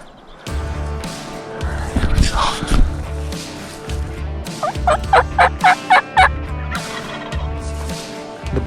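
Wild turkeys gobble repeatedly about 15 yards off during a Texas and Arkansas turkey hunt, a burst of loud rapid calls rising over steady outdoor rumble, with more gobbles ringing out near the end.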